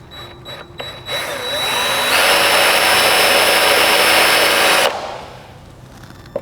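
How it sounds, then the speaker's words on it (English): A steady high-pitched drill whine, drilling a pilot hole through sheet metal, runs for about three seconds after a few short starts, then cuts off, leaving quiet room noise. "we're gonna drill the pilot hole"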